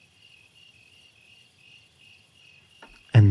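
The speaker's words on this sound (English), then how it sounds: "we would just linger for a few moments to the crickets" Crickets chirp steadily through a quiet dark night, a faint high even trill carrying on alone until a sudden loud thump cuts in near the end.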